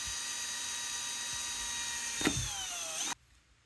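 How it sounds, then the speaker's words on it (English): An electric drill bores a hole through a plastic bottle top for an aquarium CO2 setup, a steady high whine running for about three seconds with a brief bite midway, then the motor winds down and stops abruptly. "Using a drill bit with a slightly smaller diameter than the airline tube, we will drill a hole"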